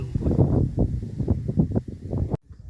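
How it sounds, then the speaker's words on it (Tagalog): Strong wind on a mountain, Mt. Batulao, buffets the microphone in low rumbling gusts for a couple of seconds, then cuts off abruptly into near silence. "Lakas ng hangin guys."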